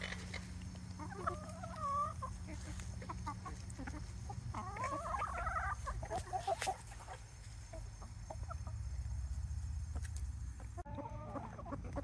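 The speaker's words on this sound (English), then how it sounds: "Cornflower, the speckled Sussex right there, she is broody" Hens, including a broody speckled Sussex, clucking in a yard, a few scattered murmuring clucks and calls over a steady outdoor background hum.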